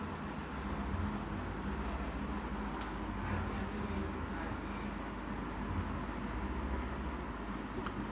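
Pen scratching steadily on paper while writing out numbers for a school arithmetic problem, a soft continuous rasp of short repeated strokes running under a voice explaining the working.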